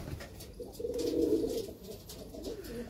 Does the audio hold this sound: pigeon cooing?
yes